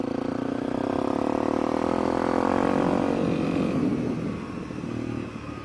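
A 250cc dual sport motorcycle engine runs close by with a buzzing single-cylinder drone that rises to a peak and then eases off and fades toward the end. No one speaks.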